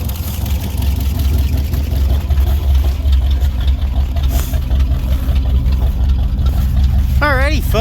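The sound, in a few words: '67 International truck engine running, drive shaft spinning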